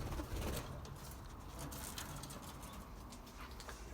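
Birds in an aviary housing Bengalese finches and quail give soft, faint calls and coos over a constant hiss of background noise.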